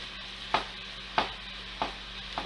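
Diced red peppers in a hot pan, a faint sizzle under four evenly spaced scraping strokes of a wooden spoon, close and quiet, with no talking.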